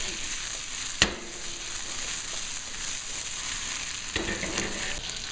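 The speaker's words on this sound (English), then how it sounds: "I'm going to start to saute those." A chili pepper frying in a pan for an orange ginger beef stir fry gives a steady, close sizzle throughout, broken by a sharp clack near the start and a few light scraping stirs toward the end.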